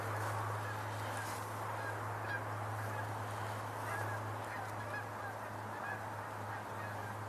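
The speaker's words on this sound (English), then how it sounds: "I hear a goose." Geese honk faintly in the distance outdoors, scattered calls rising over a steady low hum and background wind, with no one speaking.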